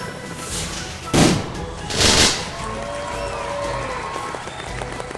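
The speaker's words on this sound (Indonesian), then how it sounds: "hiasi Pawai dengan kembang api" Cartoon fireworks decorating a parade of tanks and warships: two loud bursts with crackling tails, followed by a rising whistle under a busy music and effects bed.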